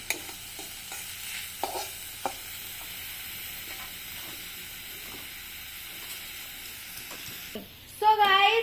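Garlic paste frying in a pan gives a low, steady sizzle with a few scattered scrapes of stirring, before a louder burst of hissing and clatter at the very end.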